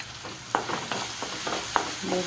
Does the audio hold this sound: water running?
no